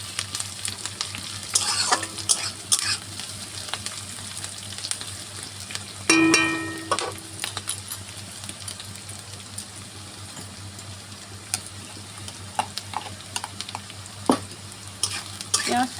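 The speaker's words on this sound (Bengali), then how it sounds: "পেঁয়াজটাকে একটু লাল লাল করে ভেজে নিতে হবে" Onions fry in a pan, being stirred for a chicken liver curry: a steady sizzle broken by repeated spatula scrapes and clanks, one louder clatter near the middle, heard close with no talking.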